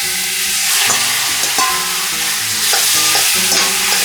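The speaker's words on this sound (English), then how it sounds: "we're going to transfer all this chicken and sausage and get it to sizzling first" Chicken pieces sizzle loudly in oil in a pot over medium heat and are stirred repeatedly, with scraping, clattering stir strokes on top of a constant frying hiss. No voices are heard.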